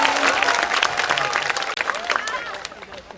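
Crowd at a school extracurricular exhibition applauding and cheering, a dense, lively clapping wash with crowd voices and whoops mixed in, tapering slightly toward the end.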